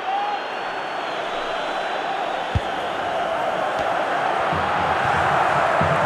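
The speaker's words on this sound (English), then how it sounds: "Well, just listen to this crowd." A stadium crowd roars during a Manchester City vs Union Berlin match in EA Sports FC Mobile 24, a steady, dense wash of noise that swells slightly near the end, with one brief thud partway through.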